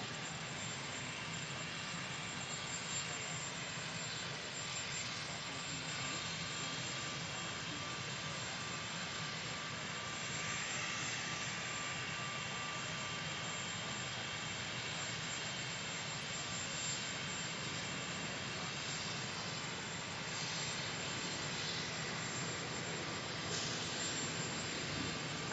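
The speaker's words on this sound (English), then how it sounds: "take a picture of the helicopter passing the Washington Monument" Marine One, a helicopter, flies over the White House grounds near the Washington Monument, a faint, steady, distant engine drone that lasts the whole time.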